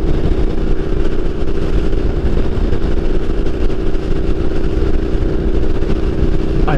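Motorcycle engines rumble loudly and steadily at close range as a group of Harleys rides alongside a 900cc British bike, a dense continuous drone with no talk.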